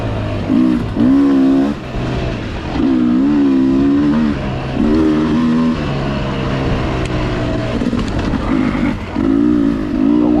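A Beta 300RR two-stroke dirt bike on a trail, its engine revving loudly in repeated surges with a buzzing, rising and falling pitch, close to the rider, with brief dips between bursts of throttle.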